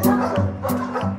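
Police dog barking: a few sharp, close barks and yips in quick succession, loud and clear, with a faint background hum.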